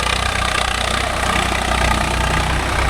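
A Swaraj 744 FE tractor pulls a 9-tine spring cultivator across dry farmland, its diesel engine giving a continuous, loud, low rumbling drone with steady vibration.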